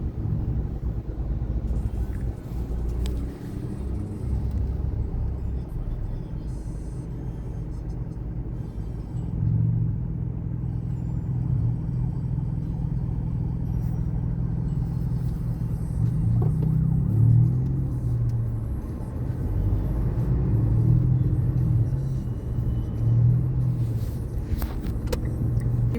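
Heavy road traffic on the CAVITEX expressway, slowed after an accident: a steady low rumble of car engines idling and creeping, with occasional revving swells, continuous and fairly close, with no talk.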